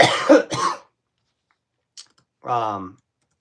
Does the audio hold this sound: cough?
yes